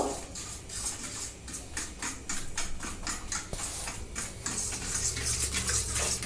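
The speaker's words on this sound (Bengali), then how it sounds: "এবার আমি এটাকে ভালো করে মিশিয়ে নেব" Cake batter being stirred by hand in a bowl for a one-egg eggless-oven cake with baking soda, a steady run of quick scraping, tapping strokes close up with no talking.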